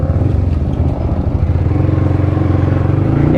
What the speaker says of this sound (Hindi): चलो भाई अपनी बाइक निकल चुके हैं